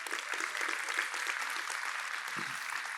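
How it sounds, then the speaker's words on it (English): A live audience at a finals night claps for the judges in a steady, even wash of applause that stays moderately loud and consistent throughout, with no voices standing out. "round of applause for judges, please"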